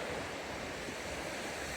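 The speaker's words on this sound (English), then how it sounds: "Listen to the waves" Sea waves roll and wash on the beach at Three Cliffs Bay, a dense, continuous roar of surf heard close and loud with some wind buffeting.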